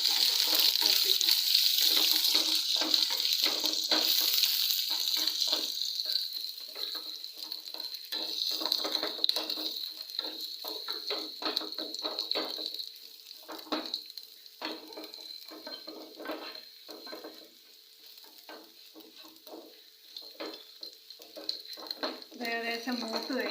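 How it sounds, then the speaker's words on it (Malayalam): Chopped onions fry in oil for a papaya curry, a steady sizzle that is loud at first and then eases. Repeated stirring scrapes run through it, with faint background sounds and no clear speech. "ഉള്ളി കുറച്ച് അരിഞ്ഞ് വെച്ചിട്ടുണ്ടായിരുന്നു, അത് ഇത്രയിട്ട് നന്നായിട്ട് മൂപ്പിക്കണം"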